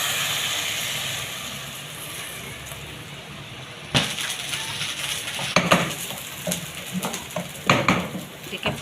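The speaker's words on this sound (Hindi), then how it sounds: "मैं इसको इसके अंदर तड़का लगाऊंगी।" Hot garlic and red chilli tadka poured into cooked mash daal, a steady sizzle and hiss followed by sharp bursts of crackling and clinking of a metal pan and spoon, loud and close.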